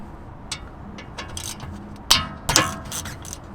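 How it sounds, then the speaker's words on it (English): Hex bolts on the front brake caliper of a BMW X5 (E70) being loosened with a 7mm Allen key, giving a close series of sharp metallic clicks and ratcheting snaps, with two louder cracks near the middle. "right here we have 7mm Allen, just 2 bolts. Loosen them."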